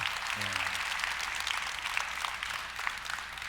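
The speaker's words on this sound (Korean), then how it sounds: "박수 한번 좀 부탁드리겠습니다" A lecture audience bursts into sustained applause, an even, full clatter of many hands clapping that holds steady throughout, with a brief voice at the start.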